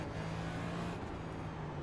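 A NextGen race car in the iRacing game accelerates toward the carousel corner at COTA, a steady droning engine tone holding a constant pitch throughout, loud and close with no voices.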